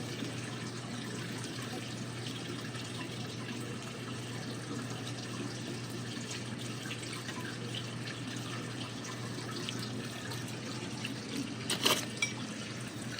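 Water poured from a container onto young plants in a biochar flood-and-drain grow bed, a soft steady trickle and splash that runs faint and continuous, with a few brief louder drips near the end.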